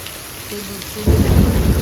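Heavy rain pours steadily over a village, a constant broad hiss, until a deep, loud thunder rumble rolls in about halfway through and continues to the end, with no talking.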